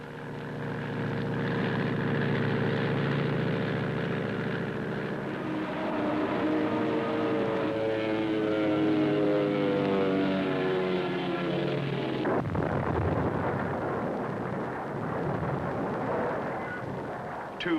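An old American plane made up as a Messerschmitt drones loudly with a steady engine roar and shifting pitch, then breaks into a rough, noisy burst of crashing impact near the end.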